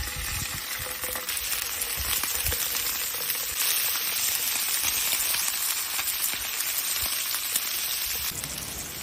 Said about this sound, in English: Olive oil to the pan and add in the fish.